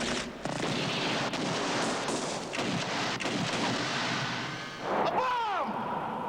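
A bomb blast in the 1987 TV series Outlaws, heard as a dull, rumbling boom beneath a steady noisy background with faint voices, followed by a brief rising whistle-like tone near the end.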